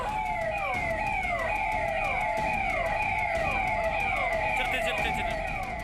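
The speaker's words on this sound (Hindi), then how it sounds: "पुलिस का सायरन बजते ही एक बार किसी के भी कान खड़े हो जाते हैं।" A police siren wails in a rapid, repeating rising-and-falling pattern, loud and steady over traffic rumble, sounding close and continuous throughout.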